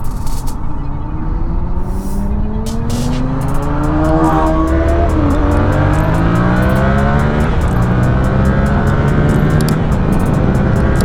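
A Yamaha R7 motorcycle accelerates hard at full throttle, its engine note climbing and dropping through several gear changes, loud and close with heavy wind rush throughout.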